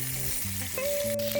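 Wild rabbit pieces browning in a pan, a steady close sizzle of frying with a thin whistling tone running over the latter half, no talking.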